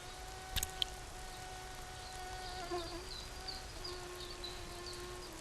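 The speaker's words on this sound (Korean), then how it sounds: "잠시 균형을 잃을 뿐 모기는 다시 날아오릅니다" A mosquito flies close by, its thin high whine holding steady as a continuous buzz over faint background noise, with a couple of brief clicks near the start.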